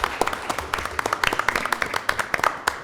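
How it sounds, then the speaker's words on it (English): Scattered applause at a township supervisors' meeting, a small room of people clapping with sharp, distinct individual claps, close and fairly loud, continuing for a few seconds. "I think that, they deserve a round of applause."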